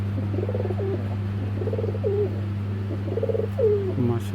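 A khaki pair of Giribaz pigeons coo in repeated rolling phrases close by, with a steady low hum underneath throughout.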